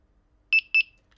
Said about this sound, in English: keep the buttons held down until you go into setup mode, which is 2 little beeps